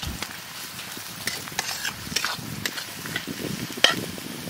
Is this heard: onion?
yes